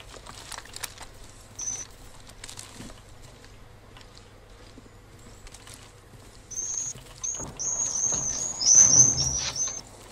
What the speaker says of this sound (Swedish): Var det en fågel och säger som pep precis?